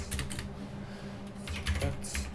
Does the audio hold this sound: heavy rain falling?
no